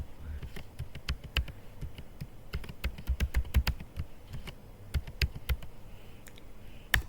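Rapid keystrokes on a computer keyboard as a password goes in, a dense run of sharp, close clicks in uneven bursts, with no one talking.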